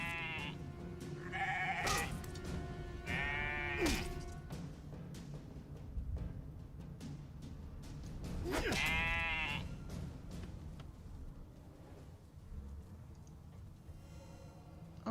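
Sheep bleat in the video game Divinity: Original Sin 2, several wavering calls at moderate distance over a low game ambience.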